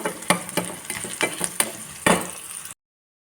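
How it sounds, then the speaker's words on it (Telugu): A tempering of mustard seeds, chana dal, dried red chillies, garlic, curry leaves and onion frying in a pan, with a steady close sizzle broken by repeated scraping stirs of a spoon, then an abrupt stop. "పోపు అంతా బాగా వేగిపోవాలండి బాగా"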